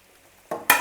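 Hibiscus leaves dropped into hot oil, fried alongside neem leaves and curry leaves for a homemade hair oil: two sudden loud bursts of sizzling, the second stronger, after near silence.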